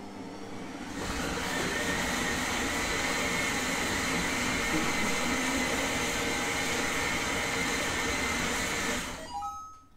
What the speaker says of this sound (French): le robot est programmé pour me mixer ceci